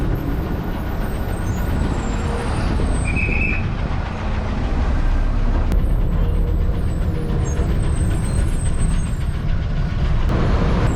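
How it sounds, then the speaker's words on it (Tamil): A city bus in Chennai pulls in at a roadside stop, its air brakes hissing over a loud, steady rumble of engine and road noise, with no one speaking. "அடுத்ததாக பஸ் இப்போ நிற்கிறது தாங்க பழந்தண்டலம் பஸ் ஸ்டாப்"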